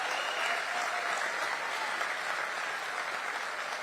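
Steady, dense applause from a large crowd at a Vice President JD Vance event in Fayette County, metro Atlanta, sustained and even throughout without letup.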